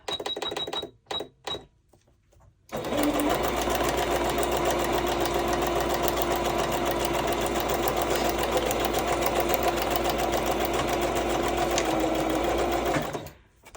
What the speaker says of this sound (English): Bring my needle up. And straight stitch down this side.